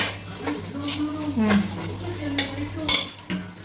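Ingredients including mint sautéing in a pan for a home lunch dish, with a soft sizzle under repeated clinks and scrapes of a spoon stirring against the metal, while a person talks over it.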